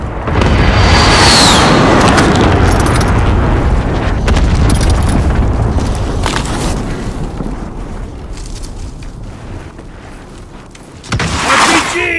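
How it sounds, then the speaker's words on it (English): A precision airstrike in a shooter video game sets off heavy, rumbling explosions, a loud booming roar that slowly fades over several seconds before another sharp blast near the end. "Be advised, friendly precision airstrike inbound."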